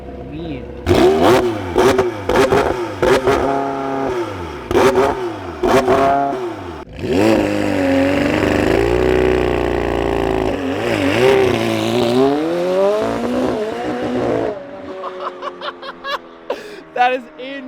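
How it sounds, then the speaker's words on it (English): A McLaren 720S cold-starts and revs hard, loud rising and falling engine pulls in repeated bursts, with excited voices and laughter reacting over the noise. "Cold start on a 720. Oh, that thing sounds mean."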